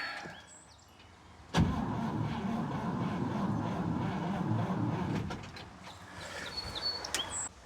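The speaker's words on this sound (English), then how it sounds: "We also know that it's cranking very, very slow." Engine of an old International farm truck, parked for years, cranking very slowly: a sustained labored starter grind after a sharp clunk, fairly close, ending with a few clicks.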